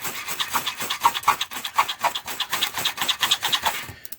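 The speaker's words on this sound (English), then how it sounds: "So throw a few sparks at it, see if it'll go." A ferro rod fire starter is struck again and again to throw sparks onto tinder, a rapid rhythmic series of close, harsh scraping strokes, steady for about four seconds.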